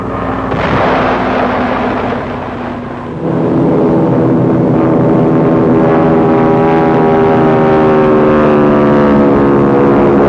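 Wartime archival film of Thunderbolt and RAF Hurricane fighter-bombers striking the walls of Fort Dufferin at Mandalay: a loud, continuous droning engine roar with a brief dip, then a sustained heavy propeller growl to the end.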